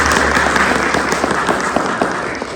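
A congregation at an Easter church service clapping together, a dense, steady wash of applause that fills the room and tapers slightly near the end, with faint voices underneath.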